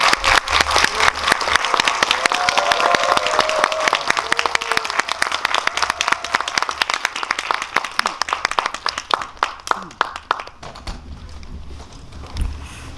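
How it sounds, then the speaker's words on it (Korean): A cinema audience at Megabox COEX hall 4 applauds directors Lee Hae-jun and Kim Byung-seo after the film Ashfall, loud dense clapping that gradually thins and fades out over about thirteen seconds, with sparse claps near the end. "박수 부탁드립니다"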